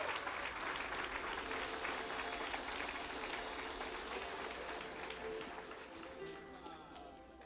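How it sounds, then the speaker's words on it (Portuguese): A church congregation applauds for newly appointed deacons, a full sustained clatter of many hands that gradually softens toward the end. "Vamos aplaudir ao Senhor Jesus"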